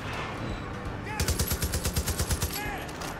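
Automatic gunfire in a video game shooter: a steady, evenly spaced burst of about a dozen loud shots, with game voices and ambience underneath.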